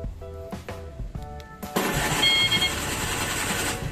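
The starter of a Vespa scooter is pressed and its engine turns over, a few short whirring bursts and beeps before it catches and settles into a steady, close running drone.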